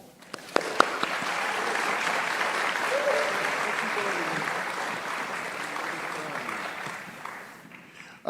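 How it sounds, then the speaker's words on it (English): Sustained applause from a town hall audience at a school funding community meeting, steady and fairly loud throughout with a few sharp claps near the start. "Please give Ebenezer another round of applause, please."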